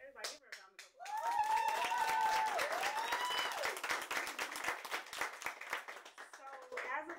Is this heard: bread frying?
no